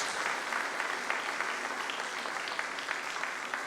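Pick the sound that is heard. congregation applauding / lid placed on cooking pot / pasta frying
congregation applauding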